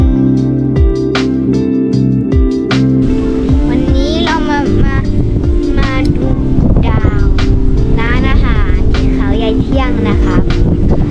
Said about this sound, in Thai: ลมอาจจะแรงไปนิดนึง พัดเจ้าหัวกระจุยเลย